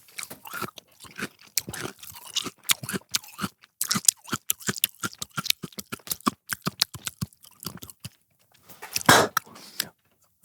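Celery being chewed with loud, wet crunching bites in rapid irregular bursts, close to the mouth, with brief pauses and a heavier crunch near the end; no talking.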